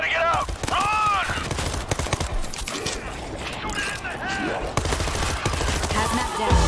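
Gunfire from shooting zombies in Resident Evil, dense rapid shots and mechanical clicks throughout, mixed with shouting voices and whooping cries.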